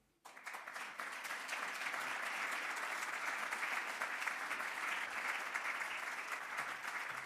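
Sustained, dense applause from a conference audience at the Building Bridges 2024 event on financing for Africa, rising abruptly and holding steady and loud throughout.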